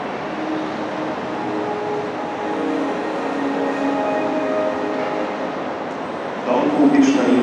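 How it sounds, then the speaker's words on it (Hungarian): An intercity train from Szeged rumbles steadily into platform 12 at Budapest Nyugati station, a continuous low rolling roar with a brief louder rise near the end. "the Dombó Pista intercity train from Szeged via Csukófélegyháza, Kecskemét, Cegléd arrives at platform 12"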